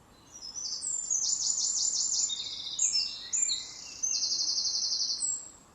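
Mistle thrush singing in Monkstown, a loud, far-carrying song of repeated rapid high phrases, one after another without pause, over faint background birds.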